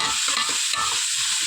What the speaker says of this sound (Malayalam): ഇത് നമ്മൾ ശരിക്കും ഒന്ന് വഴറ്റിയെടുക്കും.